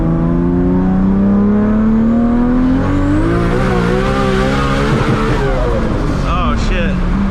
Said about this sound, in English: you can hear the turbo flutter like ridiculous